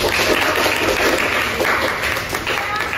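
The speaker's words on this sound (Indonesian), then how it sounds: "Tepuk tangan kita kan" Classroom students applaud together at a school lesson on protecting the environment, a dense, steady patter of clapping that fills the room, with voices mixed in underneath.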